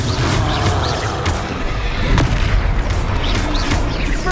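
A Confringo blast from Hogwarts Legacy erupts amid loud, dense combat, fiery explosions and crashing impacts piling up in a continuous roar with a few sharper bursts standing out.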